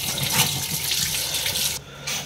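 Water runs steadily from a tap into a sink during washing, close and loud, then briefly cuts out before flowing again, with no talking.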